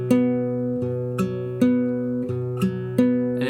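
Guitar strings plucked one at a time at a slow, even pace, each note ringing out clearly before the next, with no talking.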